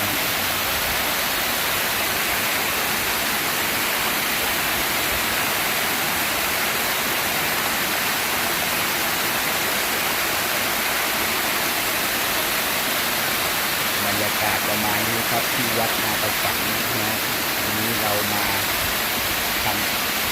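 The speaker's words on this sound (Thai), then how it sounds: "เราก็จะพามาดูน้ำตก" A waterfall roars in a constant, dense rush of falling water; a voice speaks faintly beneath it near the end.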